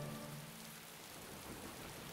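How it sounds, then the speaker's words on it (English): A morning rain shower in a children's train cartoon: soft, even patter of rain falling on surfaces, a steady wash of hiss with no voices, fairly quiet. "Oh, it's a rainy morning."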